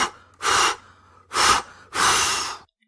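A voice imitates the wolf from The Three Little Pigs blowing hard on the pigs' house: three loud, forceful puffs of breath, close and separated by brief pauses, with no other sound.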